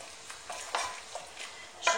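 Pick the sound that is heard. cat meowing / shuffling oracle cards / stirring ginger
stirring ginger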